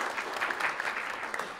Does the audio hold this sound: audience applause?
yes